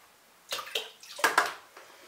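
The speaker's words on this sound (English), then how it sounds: "We're gonna put 1/2 cup of water." Half a cup of water poured out in a few short, close splashing bursts, each with a quick wet slosh and a brief pause in between.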